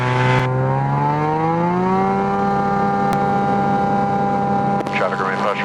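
A light aircraft powered by a Mazda rotary engine with a spark plug issue starts its takeoff roll at about 6,200 RPM. A loud, steady engine drone rises slightly in pitch at first, then holds even and continuous throughout.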